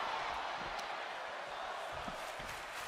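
Steady crowd roar from a WWE 2K25 wrestling match, a continuous broad wash of cheering with a few faint thumps underneath, holding at an even level throughout.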